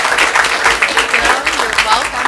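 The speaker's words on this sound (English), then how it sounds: "Please give Janila a round of applause." Applause for a student at a school district event, a dense crowd of clapping hands, fairly loud and close, with voices mixed in beneath the claps.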